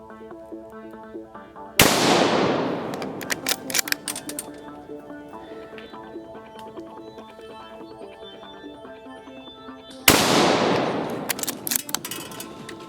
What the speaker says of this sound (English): I love the sound of a bolt action.